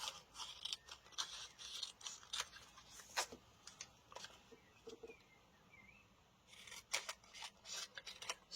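Scissors snip out a paper piece for a mixed media craft, a run of quiet, sharp, irregular cutting clicks close by with short pauses between bursts in a calm room.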